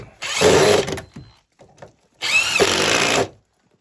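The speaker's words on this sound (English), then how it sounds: "We have 2x4s and 3 screws and the impact driver." Impact driver driving screws into 2x4s while patching an old mine ladder, two loud close bursts of whirring and rapid hammering, the second longer, separated by a short pause with faint clatter.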